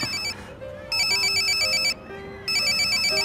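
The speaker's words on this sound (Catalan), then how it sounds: "Agafa el telèfon, Ulrich, sisplau." A mobile phone ringtone chimes in bright, repeating electronic bursts, loud and close, with short pauses between rings in a Catalan-dubbed animated series.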